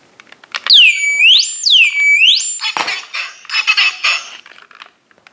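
A wireless smoke detector alarm shrieks in loud, rising-and-falling electronic sweeps, a few cycles close by, then clattering handling noises as it cuts off.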